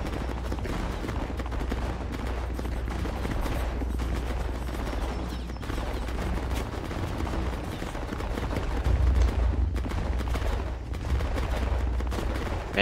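Musket volleys in a Napoleonic Wars video game battle between Spanish and Italian forces, a dense continuous crackle of massed distant gunfire with heavier bursts later on.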